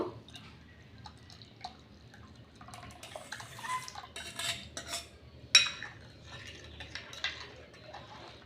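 Liquid Bhim dish soap, dissolved from lemon peels, is poured into lemon water in a vessel, with faint dribbling and splashing plus scattered clinks of a utensil against the container.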